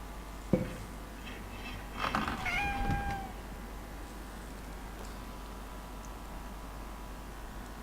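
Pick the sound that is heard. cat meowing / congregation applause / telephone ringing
cat meowing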